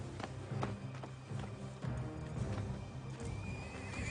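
A frightened black horse near a grave neighs and whinnies, with hoof clops mixed in. The sound is faint and muffled, set against a dense, noisy background.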